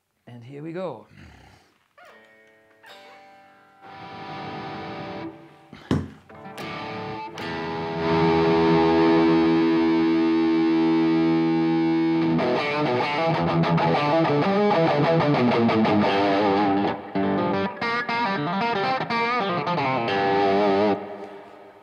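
Electric guitar played through an amp with heavy reverb, sustained chords and notes ringing out loudly with a long wash of echo trailing behind them.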